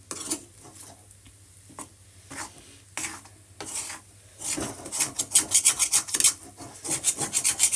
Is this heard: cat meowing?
no